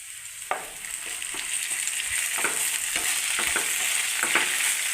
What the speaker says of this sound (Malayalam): നമുക്ക് അതിനകത്തോട്ട് ഈ കോവയ്ക്ക് അങ്ങിടാം